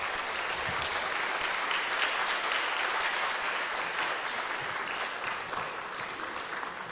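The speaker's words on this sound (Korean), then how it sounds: "우리 박수로 환영할 때 목사님 올라오시도록 하겠습니다" Church congregation applauding steadily to welcome the pastor to the pulpit before a Sunday worship sermon, a dense, even wash of clapping that holds throughout and eases slightly at the end.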